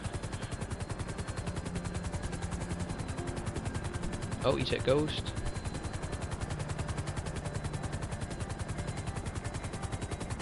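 A helicopter in GTA Online drones steadily with rapid, pulsing rotor chop throughout, while someone speaks briefly over it midway.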